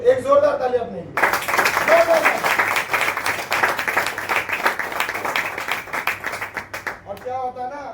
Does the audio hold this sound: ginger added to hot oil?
no